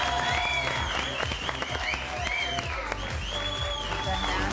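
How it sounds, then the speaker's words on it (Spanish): A television studio audience claps and cheers in a sustained burst, with music and whooping voices woven through the steady applause. "quiere un aplauso gigante"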